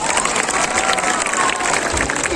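Audience applause at a Bhim Sakaal public event in Wardha, a dense, even patter of many hands clapping that fills the whole moment with no pause.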